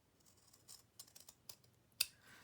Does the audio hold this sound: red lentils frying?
no